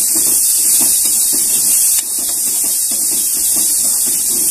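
Salted boiled chickpeas sautéing in a pan give off a loud, constant close-up hiss with faint soft stirring knocks underneath and no voices.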